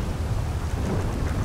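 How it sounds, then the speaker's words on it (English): Heavy rainstorm with thunder heard from inside a moving vehicle: a dense, loud, continuous roar of rain with deep rumbling underneath, steady throughout. "Why the fucking rainstorm?"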